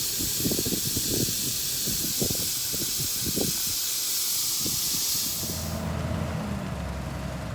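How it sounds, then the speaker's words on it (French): Air hisses out of a vehicle's tyres as they are let down, a loud continuous close hiss that cuts off abruptly near the end, with irregular low knocking and rumble beneath. "Je dégonfle un peu les pneus."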